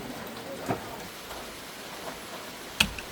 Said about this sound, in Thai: โอ้ยฝน